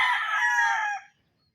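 A Raptor Sweater gamefowl rooster on a game farm lets out a single bright crow lasting about a second, close and clear, then falls silent.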